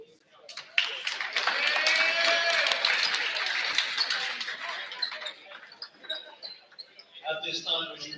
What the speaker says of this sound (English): Another round of applause for Aiden as he becomes the newest member of